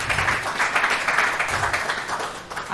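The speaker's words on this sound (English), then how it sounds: "Round of applause." Audience clapping at an indoor meet-and-greet event, a brief burst of applause from a modest crowd, close and fairly loud throughout.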